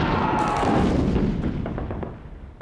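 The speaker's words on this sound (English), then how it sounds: "His name for this type of artillery fire was Trommelfeuer, which means drum fire." World War I German artillery barrage of drum fire, a dense rolling roar of overlapping blasts that fades away, then a fresh burst at the end.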